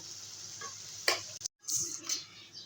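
Pointed gourd and egg sauté in a pan with a faint, steady sizzle, broken by a few sharp scraping clicks of a spoon stirring against the metal.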